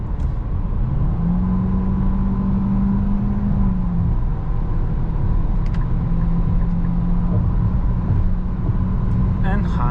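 Cabin drone of a 2022 Nissan Qashqai 158 HP mild hybrid with CVT and 4WD accelerating onto a highway in sport mode. There is a constant low rumble, and a smooth tonal engine note rises and holds.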